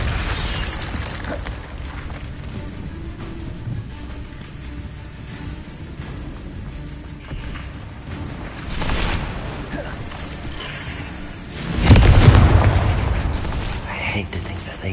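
A Confringo blasting spell in Hogwarts Legacy, heard as a sudden loud explosive burst late in the passage, preceded by lighter spell impacts and rumbling game ambience.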